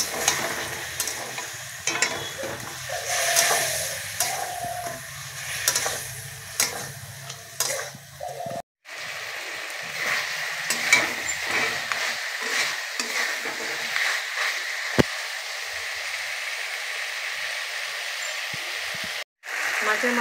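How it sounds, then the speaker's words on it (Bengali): A fish head sizzles as it is stirred in a pan for a Bengali fish-head ghonto, with a steady soft frying hiss and intermittent scraping stirs, a voice talking over it for stretches. "ভালোভাবে কষানো হয়ে গেছে মাছের মাথাটা।"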